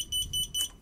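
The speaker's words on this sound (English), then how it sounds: "My beeper works." FPV quadcopter beeper, a Lisam LS X140, giving three quick, shrill electronic chirps in an even rhythm, close and clear with nothing else around it.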